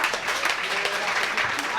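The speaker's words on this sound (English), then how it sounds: "I'm a big fan of clapping" An audience at a science talk event claps steadily in a dense, even wash of applause for a couple of seconds, close and fairly loud, with a voice faintly under it.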